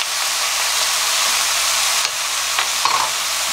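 Bean sprouts stir-frying in a pan over high heat, a loud steady hissing sizzle close up, with a couple of brief stirring clanks near the end.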